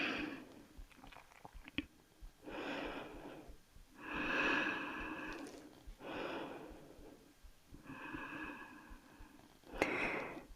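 Slow, audible breaths during a beginner power yoga session come as several long exhales and inhales in a steady rhythm. They are close and soft, with breathy rushes separated by short pauses.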